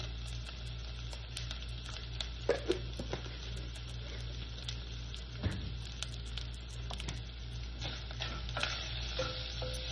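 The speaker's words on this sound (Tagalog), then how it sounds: "Ihalo-halo lang natin siya." A spoon stirs a pot of corn and vegetable soup seasoned with pepper and chicken powder, giving soft scraping clinks and a few sharper knocks over a steady low hum, with no talking.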